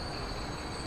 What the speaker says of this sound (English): Oh my God, another couple of trains going in.